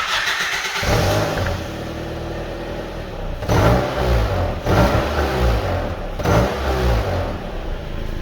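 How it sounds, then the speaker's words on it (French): A running car engine putters close by through a leaking exhaust, with a rough, pulsing exhaust note that surges every second or so. "le problème avec cet échappement, c'est qu'il fuit quelque part"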